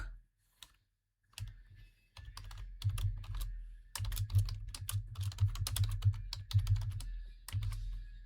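Code is typed on a computer keyboard in close, crisp bursts of rapid keystrokes, starting with a few isolated taps, then a dense, continuous run with short pauses, with no talking.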